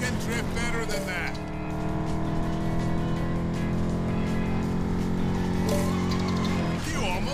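A car drifting in LEGO 2K Drive: a sustained, loud engine drone with shifting pitch and tyre noise, steady throughout and mixed with game music.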